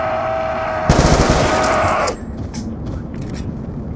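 Rapid automatic Galil gunfire from Call of Duty Black Ops 2 Zombies: a loud, dense burst of shots lasting about a second, then quieter game sounds.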